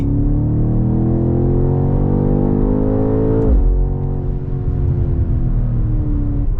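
A 2024 BMW X6M Competition under way, its engine a steady loud drone that rises in pitch, drops sharply partway through as it brakes, then climbs again, with no talk.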